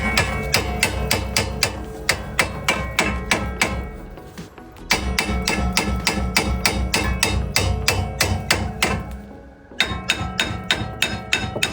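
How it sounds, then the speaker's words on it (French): A hammer strikes a rear brake part on a Jumper, Ducato or Boxer van in quick, steady metallic blows, three sharp bursts broken by two short pauses, loud and close with no talking. "on peut taper au marteau pour le décoller"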